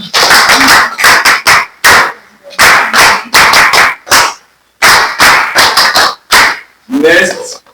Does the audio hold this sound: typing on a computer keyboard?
no